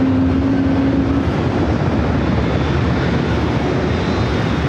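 Breeze Airways airliner at San Diego airport, bound for Raleigh-Durham, with a loud, steady engine rumble and a brief tonal hum at the start.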